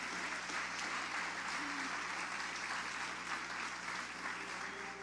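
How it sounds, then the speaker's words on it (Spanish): Steady applause from a church congregation during a Sunday morning service, sustained and fairly loud across the whole stretch with no pauses. "Aplauda al Señor en esta mañana."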